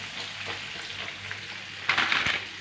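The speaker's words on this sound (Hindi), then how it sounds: "इसको हम 6-7 मिनट ऐसे ही फ्राई करेंगे" Chicken pieces deep frying in hot oil for a crispy finish make a continuous bubbling sizzle that briefly flares louder near the end, with no talking.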